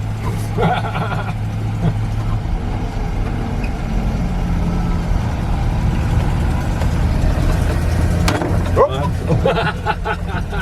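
An old Chevy tow truck drives around the block, its engine rumbling low and steady from inside the cab as voices talk over it, with a few rattles and knocks near the end.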